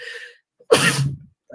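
A single sharp, loud sneeze bursts out after a brief indrawn breath, with faint speech just before it during a quiet indoor conversation.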